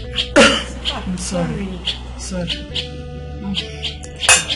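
A woman's sneeze bursts out near the start amid a domestic scene, followed by more close talking and a second sharp burst near the end; voices speak throughout.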